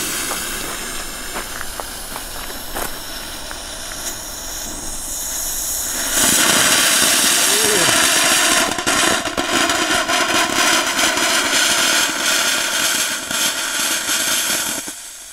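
Scared Susi youth firework fountain lit on a grill trailer: after a quieter fizzing start, it bursts into a loud, steady roaring hiss with crackles that lasts the remaining nine seconds, with no talking.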